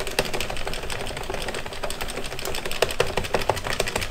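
An addi Express Kingsize knitting machine knitting a cowl, giving a steady mechanical clatter with fast rhythmic clicks throughout, loud and close, with no talk.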